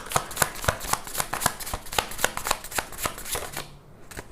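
Tarot cards being shuffled by hand, a quick series of crisp riffling snaps in close, fairly even rhythm that stops just before the end.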